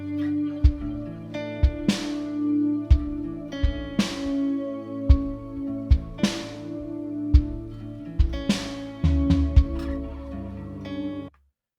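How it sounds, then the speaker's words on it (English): Clumsily played virtual drums recorded with a MIDI controller in a home music studio: loose, uneven kick, snare and cymbal crash hits over a sustained backing, with irregular timing and no talk until it cuts off. "a really bad drum recording there sounds like this"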